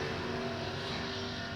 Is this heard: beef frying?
no